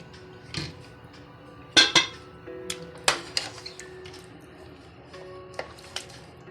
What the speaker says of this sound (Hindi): अब इनको हम प्रेशर कुकर में डाल लेते हैं